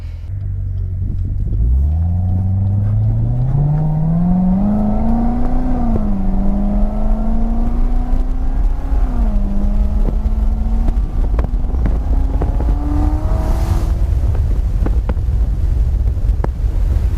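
A 2019 Corvette Z06 special edition's engine and exhaust pull away under acceleration: a deep, loud engine note climbs through the gears with rises in pitch and shift dips, heavy wind noise throughout.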